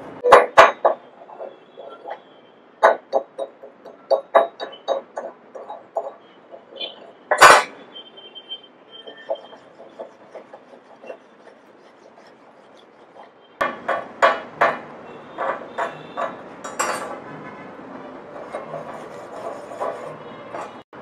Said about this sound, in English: We have to clean with the wire brush to clean this welding